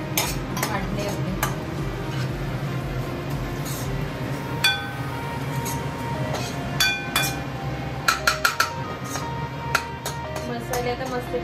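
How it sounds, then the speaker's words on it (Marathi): Spices going into a small batch of onion-based vegetable curry frying in oil in a pan, with steady stirring, scraping and clinks of a utensil against the pan, and occasional sharper metallic taps. "मी मसाले टाकते आता."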